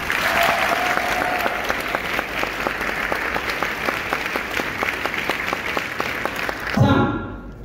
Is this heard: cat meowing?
no